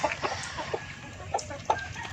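Backyard chickens cluck in short, scattered bursts while feeding, with several soft calls close by over a low background hum.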